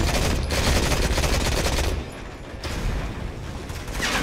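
Rapid bursts of automatic gunfire fill a firefight in the mobile shooter Modern Combat 5, loud and continuous, easing briefly before resuming.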